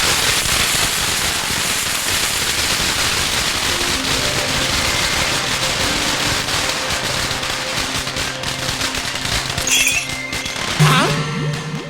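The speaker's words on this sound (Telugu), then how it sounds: "నాకు ఈ టపాసులు అంటే కొంచెం భయం." Firecrackers burst in rapid, crackling volleys during a festive comedy scene, a dense loud barrage of pops and bangs that continues throughout, with tonal whistles and a faint voice near the end.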